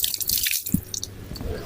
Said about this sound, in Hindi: 3 बार अच्छे तरीके से आपने चेहरा धो लेना है।